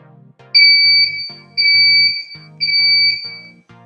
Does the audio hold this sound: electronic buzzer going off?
yes